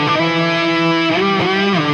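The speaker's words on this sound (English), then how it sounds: "I love to use the DS1 distortion mod to give a bit more gain on the sound." Electric guitar through a DS1 distortion mod on an Axe-FX III modeler, sustained distorted chords ringing loud and steady with one chord change midway, played alone without talk.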